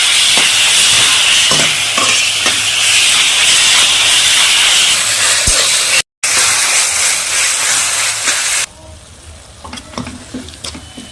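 Vegetables for a meat fried rice sizzle and hiss steadily in a hot pan while being stirred, a loud continuous fry with occasional scrapes, then dropping to a quieter crackle near the end.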